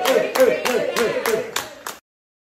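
Hands clapping in celebration, about seven sharp, evenly spaced claps in a quick rhythm with voices chanting over them, stopping abruptly.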